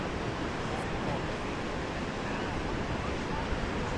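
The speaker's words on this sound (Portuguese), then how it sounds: "Agora o vento tá demais, o vento tá forte, velho." Strong wind gusts across Boa Viagem beach in Recife, a dense, constant roar buffeting the microphone with the wash of surf blended underneath, loud and unbroken throughout.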